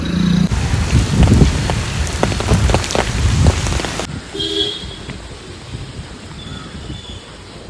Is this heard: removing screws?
no